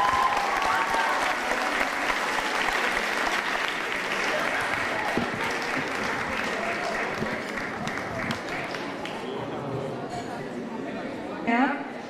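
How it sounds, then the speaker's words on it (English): Sustained applause from an audience at a fundraiser event fills the room for about twelve seconds, a steady, dense wash of clapping with some talk and crowd murmur mixed in. "박수 부탁드립니다."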